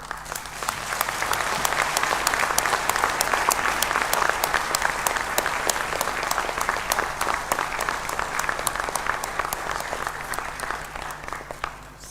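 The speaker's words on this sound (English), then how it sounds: "we express our gratitude to all of them together with a big applause" A large audience at a celebration in a world body in Bangkok breaks into sustained applause, dense overlapping clapping holding steady and loud for the full stretch with no talk over it.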